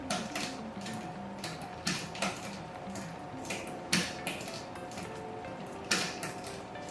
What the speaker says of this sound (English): Rotate the chainring slowly, then turn the H-limit screw clockwise half a turn at a time until the chain rubs the second smallest sprocket.